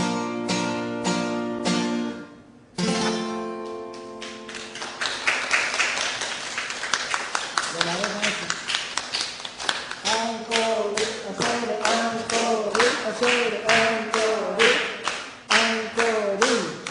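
Audience at a live-streamed concert clapping along in rhythm, steady handclaps ringing out over sung music and instruments, close and fairly loud throughout.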